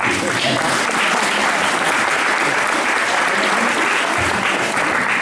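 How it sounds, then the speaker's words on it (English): Audience at a talk on Okinawan identity and languages applauding after a speech, dense sustained clapping throughout, loud and close, with a voice faintly mixed in. "One more round of applause."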